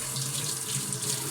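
Running tap water rinsing a surface after sponge cleaning, a continuous close splashing gush at steady volume.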